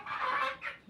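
A rooster clucks in two quick, close calls, loud and clear with no talk over it.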